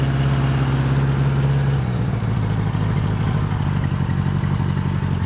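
Old motorcycle engine idling after sitting unused for 20 years, with oil in the cylinder after resting on the side stand, a loud, close, steady rumbling idle with rhythmic mechanical clatter throughout.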